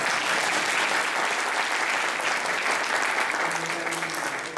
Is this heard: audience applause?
yes